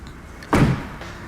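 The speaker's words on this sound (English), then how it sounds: "the soft closed doors that have been introduced that just pull the doors down" Soft-close door on a McLaren 675LT drawing itself shut, a single short muffled thud with a brief mechanical whir after it, close by in a quiet setting.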